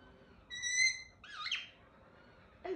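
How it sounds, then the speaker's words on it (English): Kookaburras call outdoors, heard faintly at a distance as a steady whistled note, a brief warbling burst, and then a short chattering call. "It's kookaburras."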